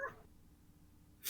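A person voices a short, confused cat-like noise, imitating a cat during a tabletop fantasy role-play game. A brief nasal mewing sound comes first, then near-quiet, then a loud burst of noise at the end.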